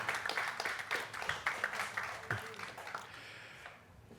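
Applause at a basketball press conference in Viimsi, a room full of people clapping in a dense patter for about four seconds before it fades out.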